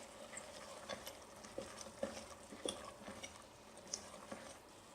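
Chole being stirred in a pan over a medium flame after garam masala powder goes in, with faint scraping and light clinks of a spoon against the pan over a soft sizzle.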